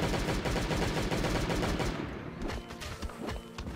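A turret in the survival game Last Day on Earth fires continuous dense gunfire that fills the first half, then thins into scattered shots under a busier mix.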